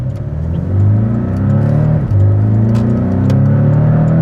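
A 2019 Porsche 718 Cayman with PDK gearbox, heard from inside the car while driving, gives a loud, steady engine drone that climbs in pitch with a brief dip around a gearshift, continuous with no talking.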